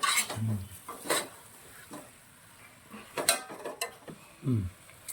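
Chicken pieces stirred in a pot while making chicken biryani, with intermittent scraping and clanking of a spoon against the metal pot, close by, a few distinct strokes over a quiet background, no speech.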